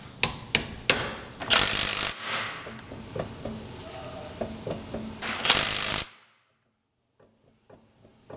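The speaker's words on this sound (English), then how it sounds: "So you just saw us verify the torque on the backlash caps or the carrier bearing caps." Torque wrench clicking while verifying the torque on differential carrier bearing caps during a T56 transmission install in a turbo NewEdge Mustang, sharp metallic clicks and ratchet rattles nearby, ending in near silence.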